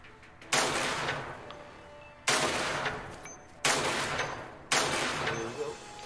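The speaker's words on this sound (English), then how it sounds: "And it kind of has like a little flak cannon to it" Flak cannon firing in the video game Angels Fall First: four heavy booming blasts at steady intervals, each with a long, rolling decay, loud and close with no talk over them.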